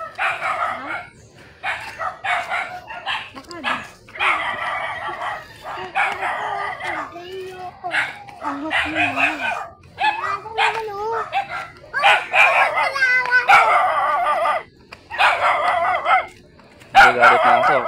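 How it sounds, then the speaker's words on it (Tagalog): Many dogs bark in a rural mountain area in the Philippines, in repeated, overlapping bursts throughout. Roosters crow in the mix and voices can be heard faintly. "Dami aso."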